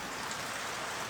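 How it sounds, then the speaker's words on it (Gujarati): Rain falls steadily as a continuous, even hiss of drops with no pauses or voices. "વરસાદ તો જો પડે તમે જુઓ"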